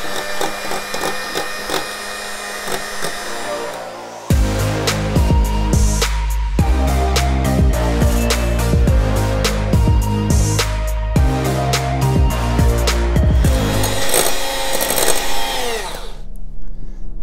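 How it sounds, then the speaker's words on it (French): An electric mixer whips liquid cream into chantilly in a salad bowl, giving a loud, steady whirring hum that starts abruptly and shifts pitch as the beaters change speed, with no talking. "on verse notre crème directement dans notre saladier comme ceci. Et on va simplement mélanger."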